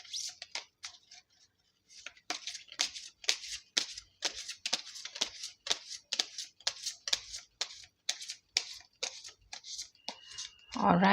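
Tarot cards being shuffled by hand, a long run of quick, crisp riffling flicks in uneven bursts, close and fairly quiet, ending with a brief louder rustle.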